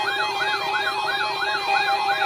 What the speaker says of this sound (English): The National Weather Service has just activated the warning alarm at the test.